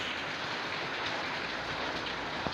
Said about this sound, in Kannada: ಇವಾಗ ಚೆನ್ನಾಗಿ ಮಳೆ ಬರ್ತಿದೆ